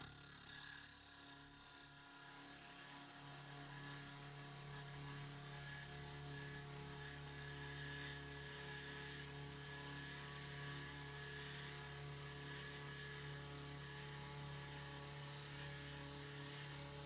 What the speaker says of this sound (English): This clip shows me milling a piece of 1 inch 12L 14 bar stock to a length of